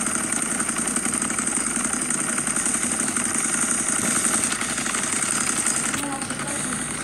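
An ATV engine in the Roblox game Redwood Prison runs steadily at a mid-pitched drone through the whole stretch, loud and close, with no voices over it.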